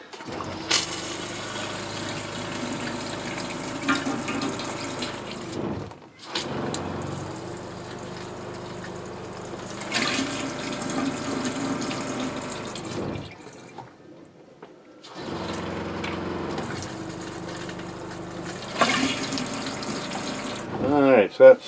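Water runs and splashes into an RV toilet during de-winterization, a steady close hiss and gurgle coming in long stretches broken by short silent gaps, with faint room noise in the pauses.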